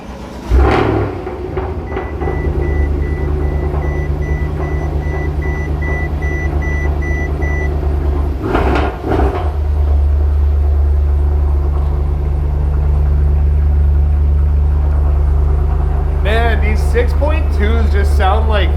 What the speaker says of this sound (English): It's probably the favorite part of this car is a cold start.